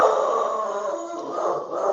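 A dog howls and whines in a long, wavering, continuous cry lasting about two seconds, fairly close and loud, with no breaks between sounds.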